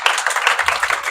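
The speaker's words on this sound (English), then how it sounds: "Maybe can you give an applause for me for Father Ted?" An audience clapping to welcome Father Ted at a church talk, a short burst of dense, fairly close applause from a small crowd.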